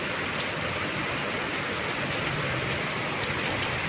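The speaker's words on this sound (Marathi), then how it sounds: "आपण पाहू शकतात, जोरदार पाऊस आहे." Heavy rain pours down steadily in Beed, a dense, loud, unbroken hiss of drops striking surfaces close by, with no pauses.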